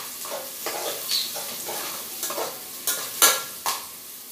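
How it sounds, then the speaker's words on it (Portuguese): Vegetables sizzle as they brown in a frying pan, with soft frying hiss and several sharp stirring scrapes and clicks of a utensil against the pan, close and alone. "Mas eu vou dourar as verdurinhas com temperinho, depois eu coloco a soja dentro"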